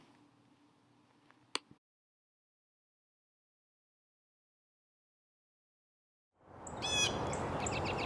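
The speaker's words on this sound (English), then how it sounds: "So here's a northern cardinal that I filmed." A northern cardinal calls in a valley park. A single faint chirp comes first, then silence, then a quick run of bright repeated chirps over a rushing background.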